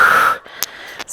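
Forceful exhale during a Pilates exercise, a loud, close breathy push of air that fades, followed by a couple of short quiet sniffs and breaths.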